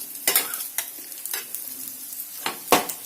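Vegetable patties fry in an oiled pan and are flipped to brown both sides, giving a faint steady sizzle broken by a few sharp scraping and turning clatters.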